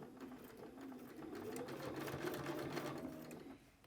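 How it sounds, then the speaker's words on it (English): A sewing machine fitted with a number 10 foot stitches inside a fold with the needle moved over, a steady close whirring run of rapid stitches lasting a few seconds before it stops. "I'm going to move my needle over so it's going to stitch inside where that fold is."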